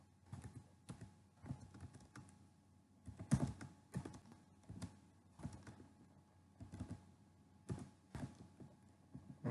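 Python code being typed on a computer keyboard: soft, irregular key clicks in short bursts, fairly close and quiet, with no voices.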